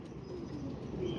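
A colony of twelve female pigeons gives soft, low cooing, several overlapping murmurs close by against a steady background hiss.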